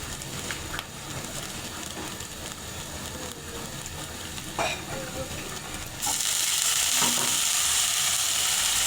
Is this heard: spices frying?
yes